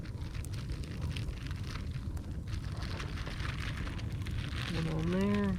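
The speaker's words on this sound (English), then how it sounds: "just enjoy the fire here" A campfire crackles and rumbles steadily while marshmallows roast over it, a continuous close bed of pops and hiss with a voice briefly audible near the end.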